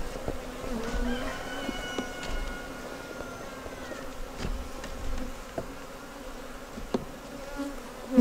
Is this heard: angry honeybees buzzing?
yes